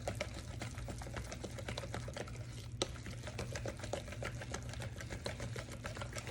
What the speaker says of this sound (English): And I'm whisking all of this together.